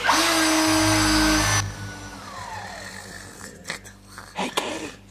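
A power drill whines loudly and steadily for about a second and a half, then cuts off abruptly. Softer thumps and scraping follow.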